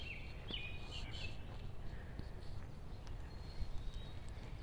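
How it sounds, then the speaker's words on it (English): Birds chirp and whistle faintly in the distance among fir trees over a low, steady outdoor rumble, with a few high calls early on and scattered tweets later. "Can you hear the birds?"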